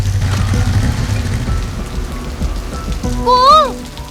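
Steady rain falls on a surface outdoors in a Rajasthan desert setting, a continuous hiss throughout, with a brief whistling tone rising near the end.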